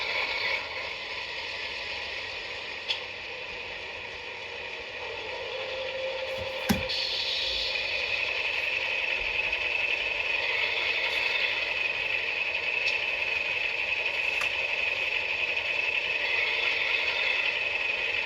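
Atlas CSX model locomotive sound decoder running: a steady mechanical engine drone with ticking and rattling, a few isolated clicks and a brief higher tone, fairly even in level throughout.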